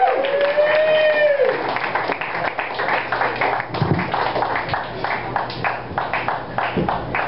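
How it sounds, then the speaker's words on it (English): Audience applause at a comedy show, a steady wash of clapping heard close and loud alongside the crowd, fading slightly midway but continuing throughout, with some tonal noise and a voice mixed in early on. "Keep that clapping going."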